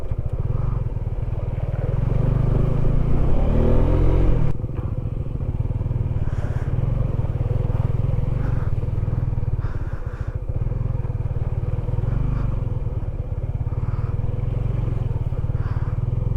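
A Honda CB150X motorcycle rides over a rough, rutted road, its engine droning loud and steady throughout with rattles and clatter from the bumpy surface and a brief surge in revs early on.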